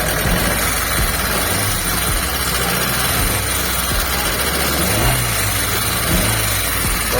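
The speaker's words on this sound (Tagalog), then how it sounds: "ito yung makina ni bossing. Ayan, kung matitinig nyo, sobrang lakas ng ingay niya." A Mitsubishi Lancer engine with an internal block problem idles loudly and roughly, a near, continuous diesel-like clatter and low rumble that holds steady for several seconds with no talk.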